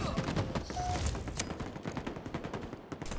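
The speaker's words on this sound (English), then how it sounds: "Where are those shots coming from?" Rapid, overlapping gunshots ring out in a Halo Infinite ranked match, a dense fusillade that keeps going steadily for the full three seconds with no talking over it.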